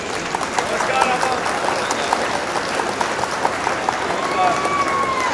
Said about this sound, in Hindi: आप जोरदार तालियों से उनका इस्तकबाल करें।